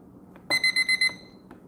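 An alarm beeps in a quick burst of five bright electronic tones, evenly spaced and close, followed by a faint short blip, with quiet room tone around it and no talking.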